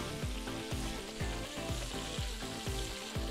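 Fish deep-frying in hot oil for a sweet-and-sour dish, a steady dense sizzle with repeated low thumps as the pieces bubble and shift, close and fairly loud with no voices.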